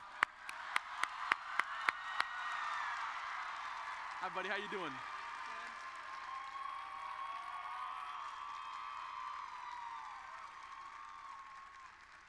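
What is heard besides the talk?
audience applause for Aiden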